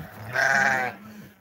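A single loud bleat from a goat or sheep, close by and lasting under a second, rises out of quiet background noise.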